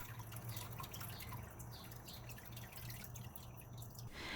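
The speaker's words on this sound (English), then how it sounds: "Strain it and then give it a quick rinse under some cold water." Cold water runs and drips steadily over strained tapioca pearls in a strainer, a continuous close splashing trickle with a faint low hum underneath and no talking.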